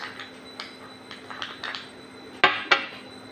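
A homemade face pack being stirred in a bowl, a quiet series of light scrapes and taps building to two sharper clinks of spoon against the dish near the end.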